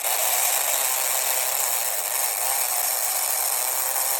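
A Ninco slot car pinion gear runs dry without oil, giving a steady, fairly loud mechanical whir with a fine ratcheting texture that holds even and unbroken throughout.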